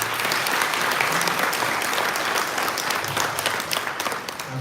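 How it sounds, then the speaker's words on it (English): A crowd at a Tough Tejano Award ceremony applauds in a dense, sustained burst that holds steady for several seconds and thins slightly at the end. "Let's give a round of applause."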